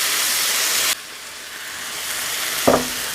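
Brussels sprouts cooking in a pot with a little water, vinegar and brown sugar, giving a steady sizzling hiss that drops in level partway through, with a brief clink near the end.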